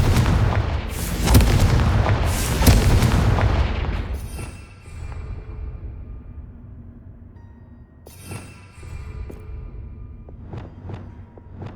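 A Confringo blasting spell fires in a PlayStation game, with a loud, rumbling explosive burst and booming impacts that fade into a decaying tail, followed by a few lighter crackling bursts later.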